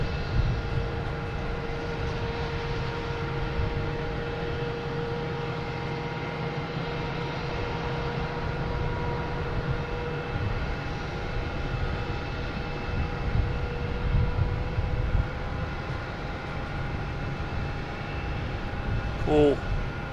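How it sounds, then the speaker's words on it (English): Lufthansa Star Alliance livery airliner after landing at Boston Logan, a sustained jet engine rumble with steady whining tones, rising and falling slightly over twenty seconds at moderate distance, with a brief sharp noise near the end. "We have the Lufthansa Star Alliance that just landed."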